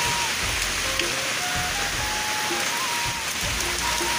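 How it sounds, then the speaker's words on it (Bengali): Steady heavy rain pours down while strong wind blows during a storm, a dense continuous wash of noise close by that stays loud and unbroken throughout, with no talking. "যেমন হাওয়া দিচ্ছে তেমন কিন্তু বৃষ্টি হচ্ছে একবার দেখো"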